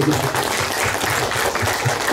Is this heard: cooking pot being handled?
no